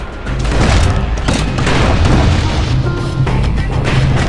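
Guns firing from a security skiff in the video game Bastion, a dense, continuous barrage of loud booming blasts with no clear pauses.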